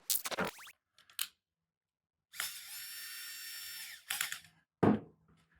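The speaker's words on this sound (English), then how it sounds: "I am using an electric screw gun" Electric screw gun driving screws into the plastic shell of a small robot kit, heard as several short whirring bursts, one longer sustained buzzing run of about a second and a half, then brief final zips, close and fairly loud.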